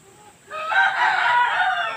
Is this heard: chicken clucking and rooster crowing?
yes